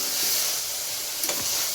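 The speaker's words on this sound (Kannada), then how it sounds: "ಸ್ವಲ್ಪ ಎಣ್ಣೆಗ ಫ್ರೈ ಆಗುತ್ತೆ" Close, steady sizzling of mixed vegetables frying in a little oil for methi pulao, a dense hiss throughout with a brief clatter of stirring near the end and no voices.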